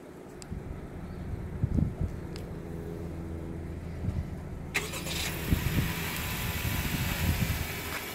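A 2020 Honda CR-V EX-L engine runs after a remote start, a low steady idle hum outdoors. A blower or fan whooshes in partway through and continues over the engine.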